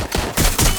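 A quick burst of gunshots in Watch Dogs Legion during a police chase, three close, loud cracks in rapid succession with no talk.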